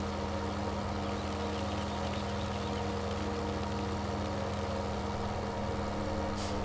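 Tractor engine in the video game Farming Simulator 17 rumbles at a steady idle, a continuous low drone with a faint mechanical hum, quiet and unchanging with no talk.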